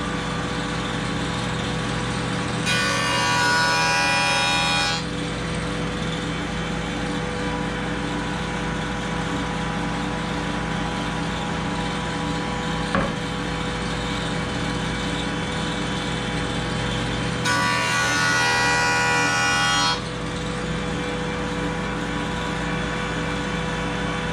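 A jointer plane shaving wood for a guitar build, two long hissing strokes a few seconds each standing out over a steady background hum, close and moderately loud.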